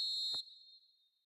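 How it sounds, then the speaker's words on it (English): A referee's whistle in the football video game eFootball 2025 gives one short, shrill, piercing blast that cuts off and leaves a brief fading ring. "And the whistle's gone, presumably for offside."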